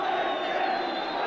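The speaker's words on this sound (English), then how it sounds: "as you can hear, crescendo of noise of protest here from the Swansea City crowd" A football crowd at a Swansea City match against Everton roaring in protest, a loud sustained wall of massed voices rising in a crescendo, heard at a distance across the stadium.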